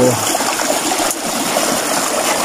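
Strong, rushing river water swollen by heavy rain roars steadily and loudly, a dense continuous wash with no pauses.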